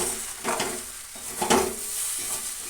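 Shrimp, potato and ridge gourd curry being stirred in a pan, with a few soft scraping strokes over a low, steady sizzle, close and moderately quiet.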